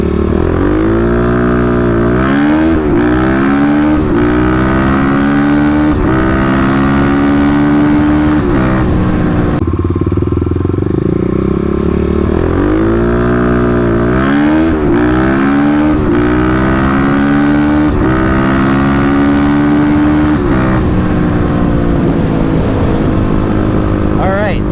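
Kawasaki KLX351 and Yamaha WR250R dirt bikes racing, engines revving loud and close with repeated rising pitch sweeps as they accelerate through the gears, a brief drop around the middle before another hard pull.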